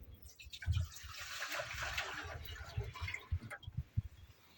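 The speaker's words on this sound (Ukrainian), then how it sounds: "Ось візьмемо зараз кувшин. Зараз, друзі, ми дамо маленьким ось води нальємо їм." Water pours from a jug into a drinking container for rabbits, a faint, uneven trickling and splashing with a few small drips toward the end.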